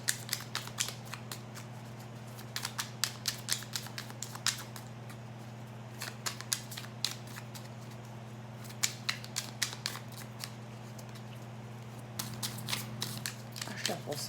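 Cards riffled and shuffled close by in quick crackling bursts, repeated several times with short pauses between, over a steady low hum.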